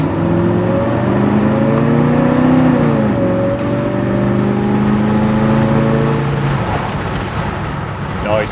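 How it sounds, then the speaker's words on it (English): Oldsmobile Vista Cruiser wagon with a 455 big block on the move, heard from inside: a loud, steady rush of wind over an engine drone whose pitch rises, dips and settles as it accelerates, with no speech. "Hear all the wind noise."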